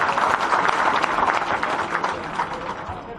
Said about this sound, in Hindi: एक बार जोरदार ताली बजाकर इनका